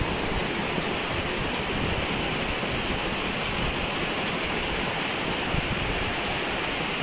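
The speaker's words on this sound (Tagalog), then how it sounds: "Sobrang lakas ng ulan dito sa Deka Homes" Heavy rain pours steadily outside at Deca Homes in Meycauayan, a dense, unbroken roar of water that stays loud and even for the whole stretch, with no voices over it.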